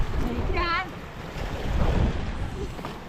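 Sea waves wash along the beach near a fishing village's fish market in the early morning, a steady surf rumble with wind buffeting the microphone and a brief whistle-like call over it.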